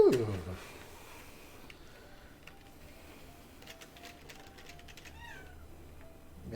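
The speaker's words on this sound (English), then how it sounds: "Meow indeed, cat." A cat meows faintly, once or twice, in a quiet room with light clicking. A voice is heard briefly at the start and end.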